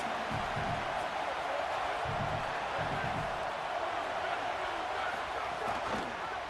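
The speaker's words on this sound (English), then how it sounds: "Listen to this crowd just shaking the girders of this place, trying to help their defense." A stadium crowd roars steadily in a college football video game with Penn State, a dense continuous wash of cheering held at even loudness for the whole stretch, with faint murmured voices beneath.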